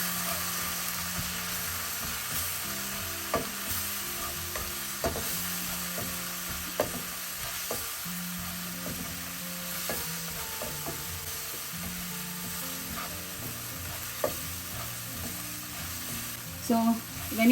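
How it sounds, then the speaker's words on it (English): Ginger-garlic masala with chili powder and garam masala sizzles steadily in a pan for fish curry, broken by repeated scrapes and clicks of a spoon stirring it, close and continuous with no voices. "So when you fry this masala, the raw flavors of the ginger garlic will go away."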